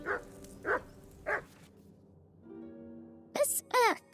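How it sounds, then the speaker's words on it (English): Dog barking in the video game Kingdom Come: Deliverance 2, three sharp barks spaced evenly apart, then a pause and a couple of higher yelping barks at the end. There is no talk. "That dog of yours is barking like the devil."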